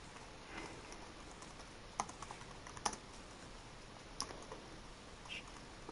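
Slow, irregular typing on a computer keyboard, with faint, close key clicks and a few sharper taps over a quiet background hiss.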